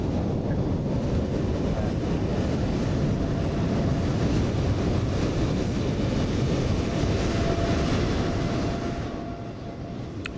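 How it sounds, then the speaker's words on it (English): A Lufthansa A320neo arrives in Microsoft Flight Simulator 2020, a steady, loud, broadband jet roar that holds throughout and eases slightly at the very end. "Comes our next arrival. Lufthansa 320 Neo Marius coming in from Venezia."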